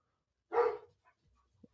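A single short dog bark rings out once, fairly close, followed by near silence with faint small noises.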